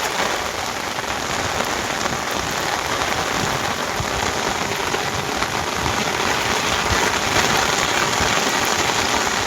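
Steady heavy rain pours onto a wetland during a monsoon downpour where fish are being caught with a net, a dense continuous patter filling the space evenly for the whole stretch, with no voices.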